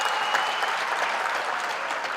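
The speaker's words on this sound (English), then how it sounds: "Can you give that a round of applause?" Graduation audience at a university ceremony in Mthatha applauding steadily, a dense, even wash of clapping from a large crowd with no break across the moment.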